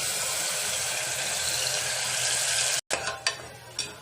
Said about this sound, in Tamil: எண்ணெய் காஞ்ச உடனே நம்ம அரைச்சி வச்சிருக்கிற இந்த வெங்காயத்தை எடுத்து அதில் போட்டு நல்லா வதக்கி பச்சை வாசனை போகிற வரைக்கும் வதக்கிக்கலாம்